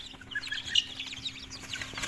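Many small high-pitched chirps and peeps overlap busily over a low hum, from a crowd of chicks nearby.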